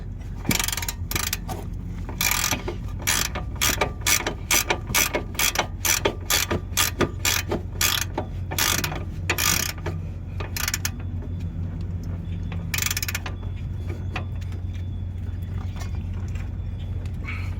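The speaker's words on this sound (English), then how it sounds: "we're going to tighten down the bolt" A hand ratchet tightens a lower control arm bushing bolt on a car, giving a fast run of loud, close clicking strokes in bursts over a steady low hum, then fading to background noise.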